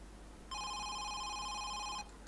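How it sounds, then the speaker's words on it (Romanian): A telephone rings once with a steady electronic tone lasting about a second and a half, clear and fairly close over a quiet room hum. "Sună telefonile!"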